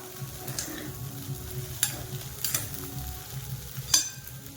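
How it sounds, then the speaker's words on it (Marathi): Potato pieces sautéing in a pan for a fasting-day meal, with a soft continuous sizzle broken by several sharp scrapes and clinks of a spoon stirring against the pan. "आता बटाटा सुद्धा परतून घ्यायचा आहे याच्यामध्ये आपल्याला चांगला"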